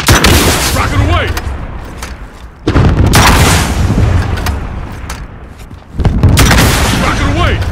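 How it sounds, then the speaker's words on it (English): Rocket launcher shots and blasts in a multiplayer shooter, with three heavy booming bursts, each followed by a rolling rumble that slowly fades, with a person talking loudly between the hits. "Rocket away!"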